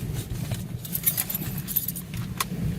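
Car keys jangle briefly near the microphone outdoors beside a car, with strong gusting wind roaring underneath and no one talking.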